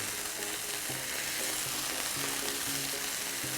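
Homemade turkey breakfast sausage patties fry in a pan with a loud, close, continuous sizzle and bubbling crackle, unbroken and even throughout, with no talking.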